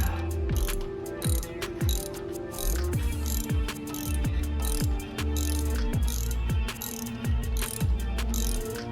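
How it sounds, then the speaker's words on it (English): A torque wrench ratchets steadily while seating and tightening the front hub of a 2014 Ford truck, a rapid loud clicking run that pauses briefly and resumes, repeating close up with no speech. "we're just gonna seat it, and then torque it down to 25"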